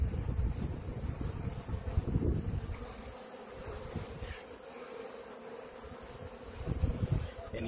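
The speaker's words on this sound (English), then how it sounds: "And these are all forager bees." Forager honey bees buzz thickly around a hive, a dense, continuous drone from many insects close to the microphone, with some wind rumble underneath.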